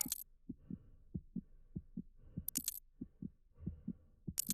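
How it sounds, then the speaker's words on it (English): A heartbeat from a heart rate tracker during Doom Eternal play thumps in a steady, even double-beat rhythm, fairly quiet and low, with short bright clicks now and then and no one talking. "You hear that heartbeat? That's real."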